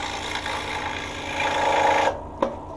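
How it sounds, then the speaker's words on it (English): A scroll saw trimming edge banding off wooden Montessori shelving: a loud, steady buzzing rasp for about two seconds that cuts off abruptly, followed by a short clack. "the next step is to trim it off, and I use the scroll saw"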